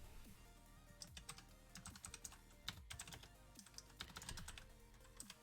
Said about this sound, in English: I'm getting good, sort of good at typing without looking.